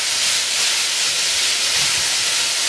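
Chicken mince cooking in a hot pan for Mexican chilli wraps gives off a loud, continuous hissing sizzle, steady and close, with no break or pause.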